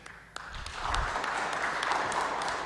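Applause fills a legislative chamber as the Speaker of the 37th Guam Legislature is elected, a dense steady wash of many hands clapping that swells after a moment and holds, with a few sharper individual claps near the start.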